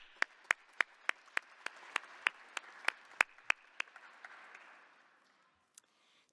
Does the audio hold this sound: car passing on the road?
no